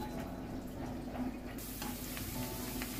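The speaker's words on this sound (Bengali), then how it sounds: "আর এখানে আমি প্রথমে বেরেস্তা করে নেব" Chopped onions sizzle and crackle in hot oil in a frying pan as they are fried into crisp beresta for a pea pulao. The frying is steady and close, with no talk.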